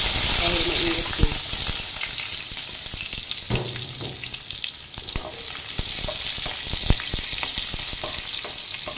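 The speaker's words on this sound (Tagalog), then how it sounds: "Sibuyas at bawang. So, ayan, ilalagay natin sa kawali. Dahil mainit na." Onion and garlic fry in a hot pan, giving a steady, bright sizzle with occasional stirring clatter. Someone talks briefly over the cooking.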